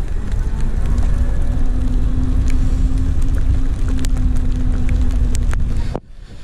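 A Lapierre Overvolt AM full-suspension electric mountain bike climbs a slippery trail, its motor giving a steady, faint whine under heavy wind rumble and tyre noise, with occasional clicks and knocks until the sound suddenly cuts away near the end.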